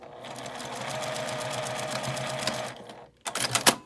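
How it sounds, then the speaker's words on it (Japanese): A sewing machine runs in a fast steady whir while stitching fabric for a baby backpack, then stops and makes a few short quick bursts of stitching. "測って線を引いてこの上をミシンで縫います"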